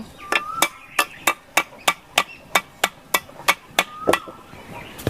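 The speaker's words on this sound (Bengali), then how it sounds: "আদাটাও আমি বেটে নিচ্ছি" Fresh ginger pounded for cooking spices, a steady run of about fourteen sharp, evenly spaced knocks close by, with a faint thin ring now and then and low background noise between strikes.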